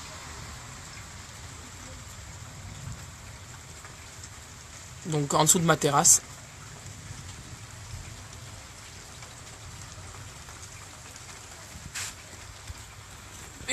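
Steady rain falls during a thunderstorm, heard from beneath a terrace in summer, with someone speaking briefly partway through and a short knock near the end.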